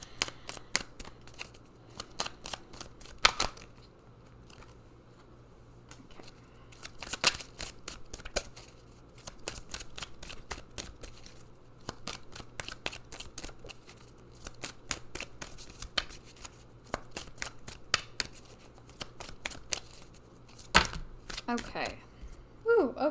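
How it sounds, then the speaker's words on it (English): Goddess oracle cards being shuffled, giving bursts of quick crisp riffling and flicking, close and fairly quiet, repeated over many seconds with pauses between bursts. "We're going to pull from these goddess cards."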